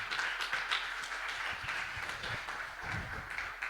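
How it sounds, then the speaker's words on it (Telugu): A church congregation clapping hands together, a steady patter of many palms that stays fairly even, with faint voices underneath. "ఉన్నవారు ఒకసారి చప్పట్లు కొట్టి దేవుని మహిమపరుస్తాం"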